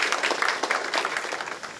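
Applause from an audience at a Seoul community debate on restoring Bongcheoncheon as an ecological stream, welcoming a city council committee chair; dense, steady clapping throughout, close and fairly loud, with no speech over it.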